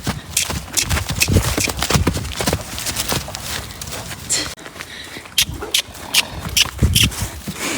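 A horse trots close by, its hooves beating a quick, irregular clip-clop on the ground, with snorts and rustling mixed in and a brief quieter gap midway.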